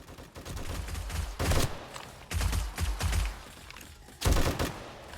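Automated turrets fire in the zombie survival game 7 Days to Die on insane difficulty, with several loud bursts of rapid gunfire separated by short pauses and a steady rattle of game noise in between.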